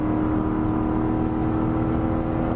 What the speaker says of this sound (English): This has a nice exhaust note to it.